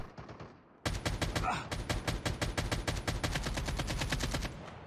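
Automatic gunfire in the mobile shooter game Call of Duty Mobile, a fast, even burst of many loud, sharp shots that runs for several seconds after a brief quieter lead-in, with no talk.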